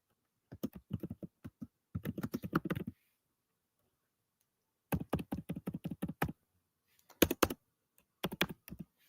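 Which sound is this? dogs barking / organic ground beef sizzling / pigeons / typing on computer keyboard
typing on computer keyboard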